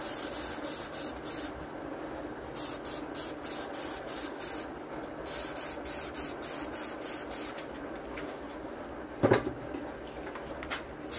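A power spray rinses an epoxy glitter tumbler, a steady close hiss running throughout with rapid pulsing bursts and a brief sharp knock near the end.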